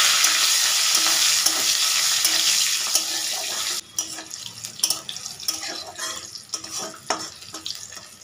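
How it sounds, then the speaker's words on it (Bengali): Whole cumin seeds and green chillies sizzle hard in hot oil, a bright hissing spatter that drops away after a few seconds into quieter crackling with light stirring knocks, close to the pan. "গোটা জিরে আর কাঁচা লঙ্কা ফোড়ন দিয়ে দিলাম"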